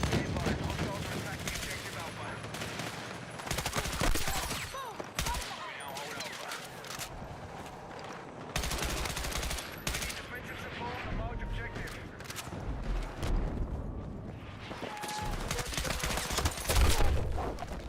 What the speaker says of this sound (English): The M16, when you can burst fire it, like, with a vert grip on there really isn't a whole lot of recoil to it.